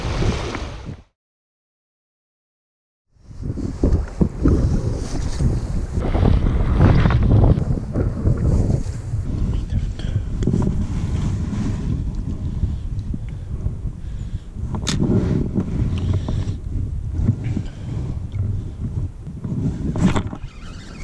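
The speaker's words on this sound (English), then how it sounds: "Look at how powerful the wind is right now. It's still howling, man." Strong wind howling across a lake shore, a loud rough buffeting roar against the microphone after a brief silent gap, gusting and sustained with some water movement beneath.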